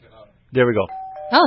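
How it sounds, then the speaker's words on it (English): A doorbell chimes once at a home, its tone ringing out between people chatting, with voices sounding before and after the ding. "that's the doorbell"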